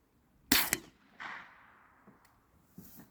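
A .22 rifle fired at an outdoor target range during a group test for coyote hunting: one sharp close report followed by a quick second crack, then fainter metallic handling clicks and a short later snap.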